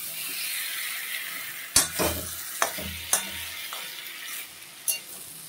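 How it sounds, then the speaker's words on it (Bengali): Fried soybean, potato, beans and carrot being stirred into masala in a pan, quiet sizzling broken by several sharp scraping and clanking stirs of a spoon against the pan. "মশলাটার ভিতরে আমি সোয়াবিন ভাজা, আলু ভাজা, বিনস আর গাজর ভেজেছি, এগুলো দিয়ে দিলাম।"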